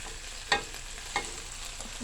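Lamb shank sautéing in a pan, a steady sizzle broken by a couple of soft stirring or turning clicks, close by, with no voices.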